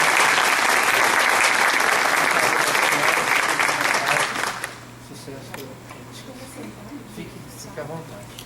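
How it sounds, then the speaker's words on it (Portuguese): Audience at an evening talk on restorative justice bursts into loud, dense applause for about four and a half seconds, then it cuts off sharply and a voice begins speaking over a quiet room with a low hum. "Uma salva de palmas, então,"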